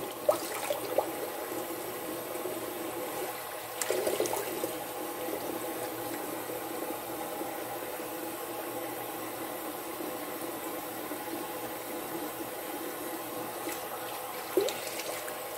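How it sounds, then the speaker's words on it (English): Water runs steadily from a tap into a sink for washing the face, a faint continuous splashing stream with a few small knocks and clinks along the way. "Make sure you wash it with warm water"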